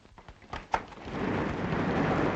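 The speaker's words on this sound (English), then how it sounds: "I wonder if it stopped raining." Rain and thunder outside, heard as a few sharp knocks and cracks followed by a steady broadband hiss of rain that swells and holds loud.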